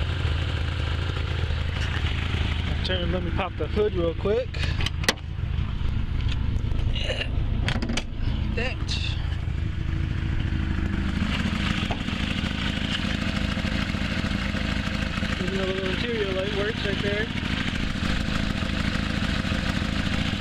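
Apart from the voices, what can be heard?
1980 Lada 2101 engine idling with small exhaust leak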